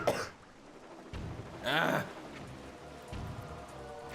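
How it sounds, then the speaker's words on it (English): A few short, rough coughs and a throat-clearing burst, spaced unevenly across a few seconds, close by with quiet room noise between. "Also, I'm gonna cough."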